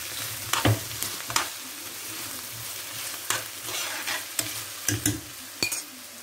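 Onion, kofta and chicken sizzling in a frying pan while being stirred, a steady close fry with repeated sharp scrapes and knocks of the utensil against the pan, no talking.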